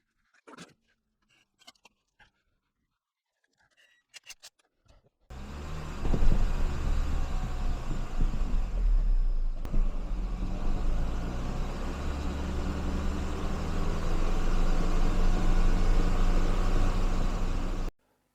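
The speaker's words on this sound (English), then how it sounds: "And then we're going to just test the gearbox." A Mini Cooper S R53 factory JCW engine starts after a few quiet clicks and runs loud and steady nearby during a gearbox test, holding a constant rumble to the end.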